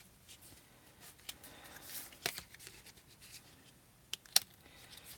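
Animal spirit oracle cards being handled and shuffled, with soft scattered riffles and rubs and a few sharper card snaps near the end, quiet and close.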